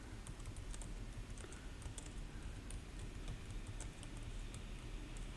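Someone types a ChatGPT prompt on a computer keyboard, producing a quiet, steady stream of close key clicks with no talk over it.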